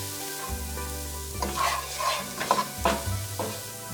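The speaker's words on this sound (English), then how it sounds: "When onion is soft, add the garlic and herb mixture and sauté for about another minute" Onion, garlic and herbs sautéing in hot oil for an old-school minestrone, a soft sizzle with several stirring scrapes in the middle, and a low steady hum running underneath.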